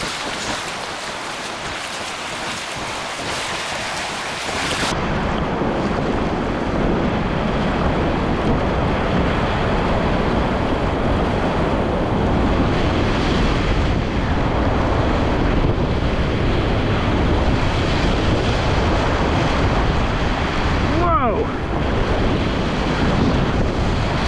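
A kayak runs high-ish water at Little Falls, with loud, continuous rushing rapids and wind buffeting close to the microphone throughout, broken briefly by splashes as the boat bounces over waves.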